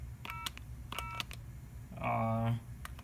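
A series of short electronic telephone keypad tones in quick bursts, then a longer, louder dual tone near the end, heard over a low background hum.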